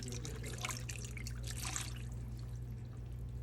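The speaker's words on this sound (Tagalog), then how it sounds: "Then I add 1 cup of water also." Water is poured into a rice cooker for cooking cabbage with chicken, a soft, continuous trickling splash at moderate distance over a steady low hum, with no speech.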